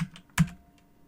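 A few computer keyboard keystrokes entered as network router configuration commands, with one sharp, close tap standing out among fainter clicks in a quiet room.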